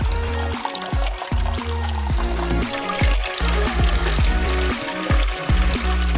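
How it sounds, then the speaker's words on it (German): Cold water is poured onto a strong iced tea base in a kitchen, about a liter on top of 200 milliliters, making a continuous splashing, gurgling stream whose pitch rises repeatedly as the container fills. "wir gießen jetzt beides mit Wasser auf"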